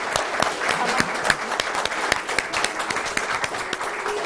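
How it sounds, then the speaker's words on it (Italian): Audience applause at a regional school winter games ceremony in Veneto, a steady burst of many hands clapping at moderate distance, dense and uneven throughout. "quindi un applauso"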